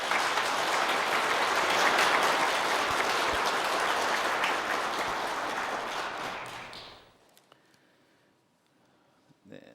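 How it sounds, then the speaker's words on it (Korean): Welcoming applause from a church congregation during a Sunday service at Kyungdong Church, broad and sustained clapping that fades out, leaving near silence with a few faint taps. "여러분들 인사드릴 때 환영의 박수 부탁드리겠습니다"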